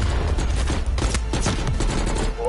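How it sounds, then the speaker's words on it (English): Rapid gunfire from a video game weapon, a loud, dense burst of quick shots rattling close by for a couple of seconds. "this sounds like that one gun from Ghost"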